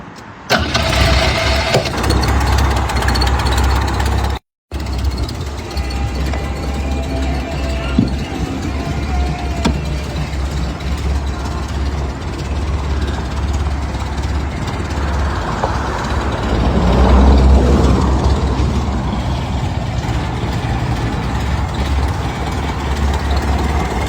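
A 1968 International pickup engine idles steadily and close by, a continuous low rumble with a brief break early on and a slight swell in loudness later.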